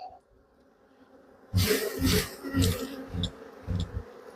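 Honeybees buzz loudly and close by as brood frames are handled and shaken, the droning starting abruptly after a quiet moment and pulsing in uneven swells.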